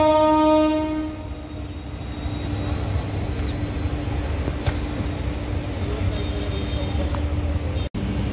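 An express train rolls along the adjacent line at Agra Fort station, a steady loud rumble with a long horn-like tone sustained near the start, fading into continuous rail noise.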